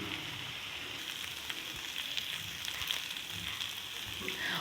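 Chicken pieces sizzle as they fry in a hot pan for a paratha filling, a steady close crackle with small pops and faint stirring scrapes throughout.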